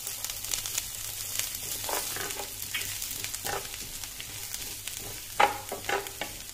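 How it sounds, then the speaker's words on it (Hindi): Ginger and garlic sizzle in a hot frying pan for Indo-Chinese dragon chicken, a steady close crackle with occasional louder pops and stirring scrapes. "अब इसमें ऐड करेंगे जिंजर गार्लिक,"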